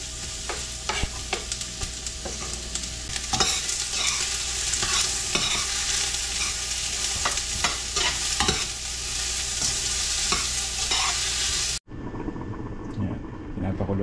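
Chopped onions and other ingredients frying in a pan in a home kitchen, a steady sizzle broken by repeated sharp scrapes and clinks of a utensil stirring, close and prominent, with faint talk underneath.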